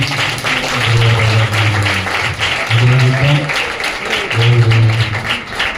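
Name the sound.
church congregation clapping loudly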